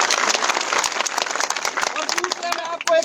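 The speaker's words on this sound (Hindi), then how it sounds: "आप इन लोगों का तालियां बजा के स्वागत करें" Crowd applause at a large Mewat village panchayat gathering welcoming guests, dense broadband clapping filling the space throughout with a voice faintly mixed underneath and a brief dip near the end.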